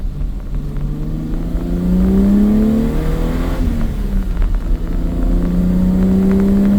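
A cammed and tuned BMW 325is EVO1 with a 2.9L stroker engine accelerates hard, its engine note rising steadily through the revs, dipping at a gear change and then climbing again, loud and close throughout.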